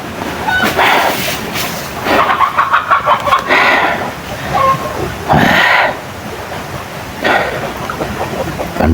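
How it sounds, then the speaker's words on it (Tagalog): Chickens cluck and squawk in several bursts, some rapid and rhythmic, close by with quieter pauses between. "Meron mga manok dito"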